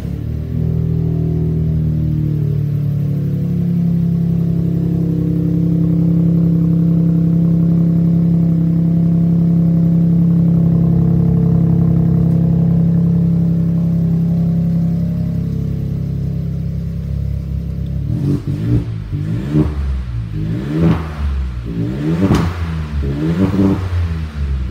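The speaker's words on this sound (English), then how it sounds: "Bit of a rumble from the exhaust." A 2017 Seat Ibiza 1.0 TSI petrol engine idles with a steady mid-pitched hum and a slight exhaust rumble, then revs several times in quick rising and falling bursts near the end.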